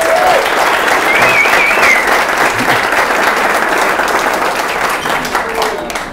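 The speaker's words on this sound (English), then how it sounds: "So please give her a big round of applause." Loud, sustained audience applause fills the room at an event honoring a retiring figure, a thick wash of many hands clapping that tapers slightly at the end, with a faint voice or two underneath.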